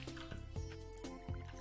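Soft watery squishing and splashing repeats in quick bursts as crops are watered in the video game Stardew Valley, with a faint musical tone underneath.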